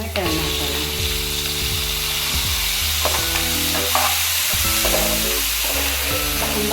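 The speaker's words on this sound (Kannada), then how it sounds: "ಈರುಳ್ಳಿ, ಬೆಳ್ಳುಳ್ಳಿ, ಒಣಮೆಣಸು ಒಂದು, ಸ್ವಲ್ಪ ಫ್ರೈ ಮಾಡಿ ಒಂದು ಟೊಮೆಟೊ ಹಾಕೋಣ" Onion, garlic, dried chilli and tomato frying in a pan for a village-style colocasia leaf chutney, a steady loud sizzle broken by repeated scraping stirs of a spoon, with no talk.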